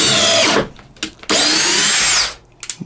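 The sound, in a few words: DeWalt 20V compact drill driving screws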